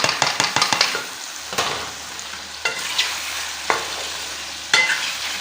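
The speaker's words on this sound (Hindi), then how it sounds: "अब हम कलेजी ऐड करके और दोनों को अच्छी तरह भून लेंगे।" Goat liver and potay fry in ghee in a pan, a close sizzle broken by sharp scrapes and clacks of a spoon stirring, several quick strokes at first and then spaced ones, with no voices.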